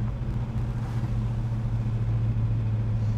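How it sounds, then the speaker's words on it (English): A 1971 Chevrolet Chevelle SS's deep, steady exhaust rumble idles close by, a continuous low throb with no voices over it. "Listen to that exhaust, man."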